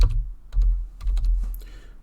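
Function code being typed on a computer keyboard: a brisk run of close, crisp key clicks and thumps in uneven bursts, with no talk over them.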